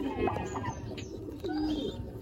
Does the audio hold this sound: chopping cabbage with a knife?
no